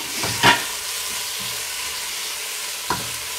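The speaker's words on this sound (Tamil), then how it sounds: "இப்போ தக்காளி ஆட் பண்ணி நல்லா வதங்கணும்" Tomatoes sauté for mutton kurma in a pan with a soft steady sizzle, interrupted by a couple of quick spatula scrapes.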